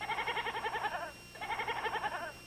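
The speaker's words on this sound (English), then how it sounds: "Joe, get that goat out of here." A goat bleats twice in quick succession, each call a wavering, pulsing cry of about a second, fairly close and clear, with no talking over it.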